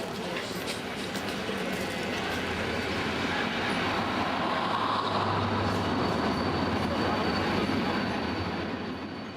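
A train rumbles steadily along the rails, a continuous loud roar with faint wheel clatter and squeal throughout.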